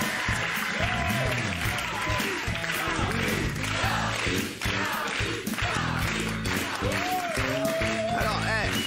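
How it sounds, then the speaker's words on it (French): Audience applause and cheering on a French TV music show welcoming a guest, steady clapping mixed with crowd noise and background music with sliding tonal notes. "applaudissements pour Charlie qui est avec nous"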